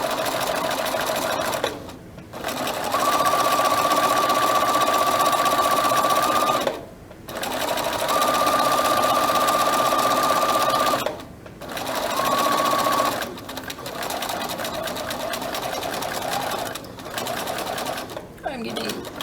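A sewing machine stitching tightly held fabric in several bursts, each a steady whirring hum running for a few seconds before a short pause, close and loud, with a person talking between and over the runs.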